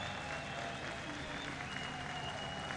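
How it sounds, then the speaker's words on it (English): A crowd gathered around the podium at a dance competition applauds in a steady, dense wash. The sound is distant and faint, with no voices standing out. "So, Conor being applauded by everybody around him"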